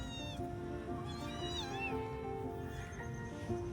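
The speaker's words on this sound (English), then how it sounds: "the little kitten is under there somewhere" A little kitten hiding under a truck gives repeated high, plaintive meows, clear and fairly close over a low background hum.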